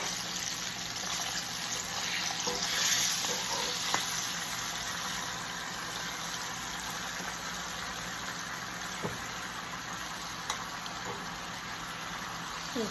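Tofu and vegetables stir-fry in a hot pan over high heat for a breakfast dish, giving a steady, even hiss with a few faint ticks and pops throughout and no talking.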